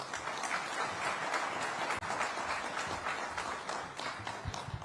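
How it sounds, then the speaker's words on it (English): A large audience applauds at the Maharashtra Maritime Summit in Mumbai, giving steady, dense clapping throughout that stays at a moderate level with no break. "Huge round of applause once more"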